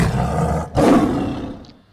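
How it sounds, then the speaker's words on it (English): A tiger gives a loud, close roar lasting about two seconds, rising to a rough peak near the middle and fading toward the end; no talking is heard. "T for tiger."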